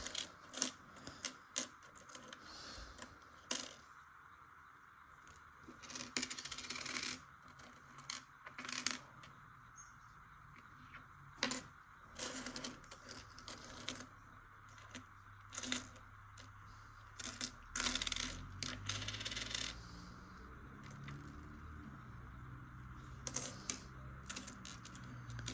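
Pennies and old coins from penny rolls clink and rattle in scattered bursts as they are sorted by hand, the close metallic jingles coming irregularly over a quiet background.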